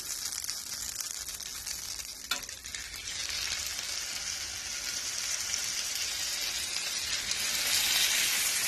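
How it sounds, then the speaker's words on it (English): Steaks sizzle loudly in a hot cast iron pan, a steady crackling hiss that grows slightly stronger toward the end, with no talking. "when I put the steaks in, they'll sizzle"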